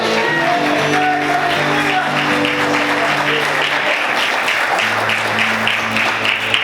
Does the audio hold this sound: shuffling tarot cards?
no